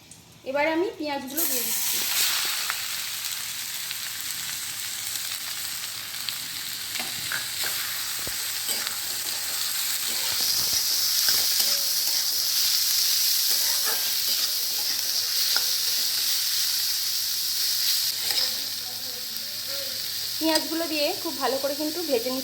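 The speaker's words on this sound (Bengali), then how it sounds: "ওই তেলের মধ্যে আমি কয়েকটা গরম মশলা দিয়ে দিচ্ছি এখানে এলাচ আর লবঙ্গ দিচ্ছি দুটো কাঁচা লঙ্কা দিয়ে দিচ্ছি" Cardamom, cloves and green chillies go into hot oil and burst into a loud, hissing sizzle that swells and then settles into steady frying with occasional stirring clatter. Someone talks at the start and again near the end.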